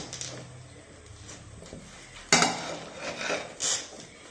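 A smooth wooden stick stirs and mixes inside a pot, giving soft scraping and clattering with one sharp knock partway through, close by with no voices.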